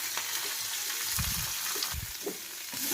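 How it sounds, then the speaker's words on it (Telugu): Cumin seeds and dried red chillies fry in hot oil with a steady sizzle and scattered soft pops and crackles, close but fairly quiet, with no talking. "జీలకర్ర, ఎండుమిర్చి వేసేసుకుందాం. ఇవి చిటపటమన్న తర్వాత"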